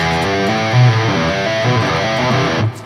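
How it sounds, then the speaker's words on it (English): Distorted electric guitar plays a fast three-notes-per-string pentatonic run of hammer-ons, loud and sustained, with the notes flowing together without sharp picked attacks. "So lots of hammer-ons like this."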